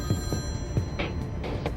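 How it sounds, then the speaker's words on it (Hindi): An electronic telephone ring trills in short bursts inside a home scene of a Turkish drama, moderately loud over a muffled room background. "फोन नहीं उठाएंगे?"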